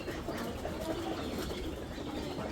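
A restless prize-winning inbred racing pigeon flaps its wings in a handler's grip, a steady close flutter with soft coos and bird calls, no talking.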